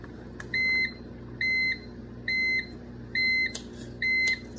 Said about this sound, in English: my canner's telling me it's done. It's an electric pressure canner.